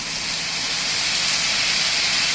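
A steady, even sizzle of salmon frying skin-side down in a pan, a continuous bright hiss with no pauses or talk.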